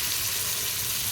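Chicken pieces fry in a hot kadai, giving a steady, dense sizzle that holds evenly throughout with no voices.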